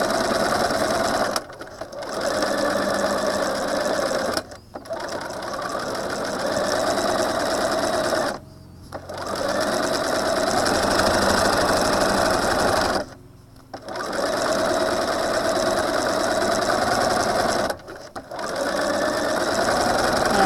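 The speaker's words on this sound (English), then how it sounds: "I'm going to continue to sew, lining up the edge of my bag along that first line." A sewing machine stitching a string bag runs in loud, steady motor bursts, stopping briefly four times between stretches of fast mechanical stitching.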